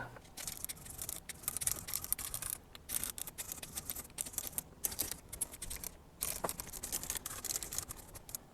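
Bursts of Deoxit D5 contact cleaner sprayed onto the switches of a 1976 Marantz 2275 stereo receiver, a run of short hissing spritzes with brief gaps between them, close and fairly quiet.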